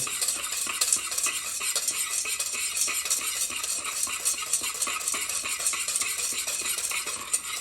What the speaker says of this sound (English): So just going to mix that in really good.